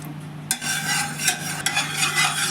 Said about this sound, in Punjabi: ਕੁੱਕਰ ਵਿੱਚ ਪਾਵਾਂਗੇ ਇੱਕ ਕੜਛੀ ਤੇਲ ਤੇਲ ਨੂੰ ਹੁਣ ਆਪਾਂ ਚੰਗੀ ਤਰ੍ਹਾਂ ਗਰਮ ਹੋਣ ਦਵਾਂਗੇ ਜੀ